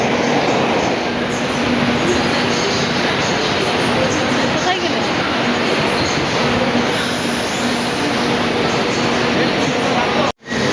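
A metro train rumbles and rolls through the platform at Shyambazar metro station, loud and steady, with wheel noise throughout. A brief voice is heard in between.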